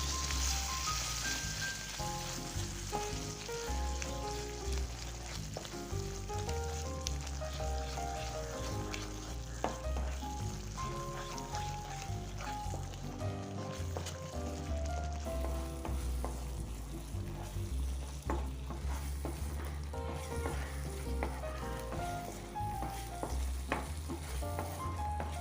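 Garlic pickle frying in a pan as it is stirred, giving a steady, continuous sizzle with soft scraping, fairly quiet, with no talking.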